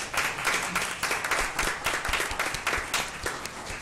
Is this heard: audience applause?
yes